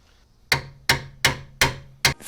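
Five sharp, evenly spaced hammer blows ring out against a seized suspension part on a car with almost 200,000 miles, each a loud metallic whack that decays quickly.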